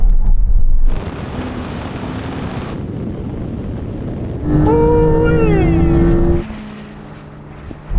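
A Tesla Model S Plaid, Ferrari SF90 and Porsche 911 Turbo S drag racing, heard from inside a car as loud wind rush and road roar with a rising engine or motor whine midway, steady and close.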